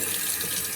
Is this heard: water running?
yes